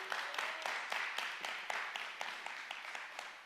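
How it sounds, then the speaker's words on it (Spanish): A church congregation claps in steady, fairly quick rhythm. The hand claps are crisp and evenly spaced, heard at a moderate distance and slowly easing off toward the end. "Si usted le cree, dele un aplauso a Dios."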